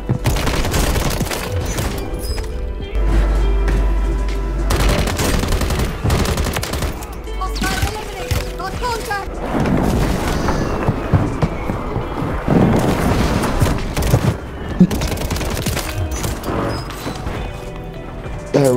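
Heavy gunfire in Warzone 3, continuous rattling bursts and volleys packed tightly together, loud and close, with explosive cracks and mixed battle noise throughout.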